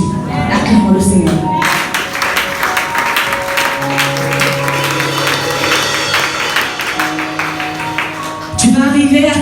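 A church congregation claps and acclaims the Lord in a loud, sustained burst of applause and cheering, with music and voices ringing underneath throughout.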